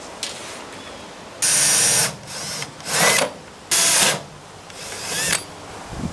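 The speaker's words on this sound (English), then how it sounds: "I'm gonna go ahead and drill the first hole" A power drill boring holes to mount lights whines in several loud bursts of about half a second to a second each, with short pauses and quieter handling noises between them.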